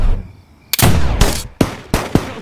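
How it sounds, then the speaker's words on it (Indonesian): Several loud, close gunshots from a pistol in a film scene, sharp bursts in an irregular rhythm with short gaps between them, booming and echoing. "mendengar suara tembakan"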